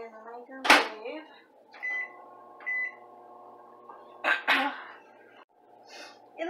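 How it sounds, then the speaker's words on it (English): A microwave oven heating meatloaf hums steadily in the kitchen, with short electronic beeps and a loud nearby sneeze or cough breaking in. "I'm gonna put this in the microwave."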